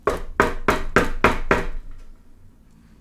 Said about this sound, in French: dès qu'il eut les yeux fermés, on frappa à la porte.